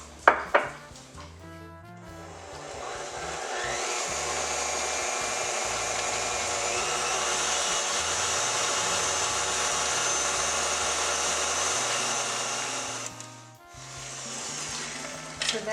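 An electric mixer beats eggs and vanilla into cookie dough, a continuous buzzing, rattling whir that holds steady for about ten seconds and then cuts off, with a few clicks before and after.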